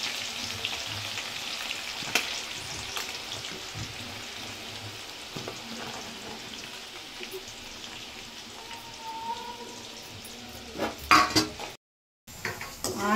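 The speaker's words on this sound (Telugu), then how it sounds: "ఇప్పుడు ఆనియన్స్ గార్నిష్ కోసం ఆనియన్ కూడా దోరగా ఫ్రై చేసుకున్నాం." Sliced onions for a Hyderabadi chicken haleem garnish fry golden in hot oil, a steady close sizzling hiss with occasional clinks of utensils and a brief dropout near the end.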